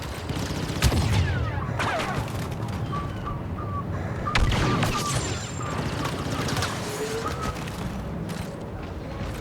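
Rapid blaster fire crackles through a Star Wars Battlefront 2 battle, with sharp repeated shots and booms over a dense bed of game effects and ambient combat noise, moderately loud throughout.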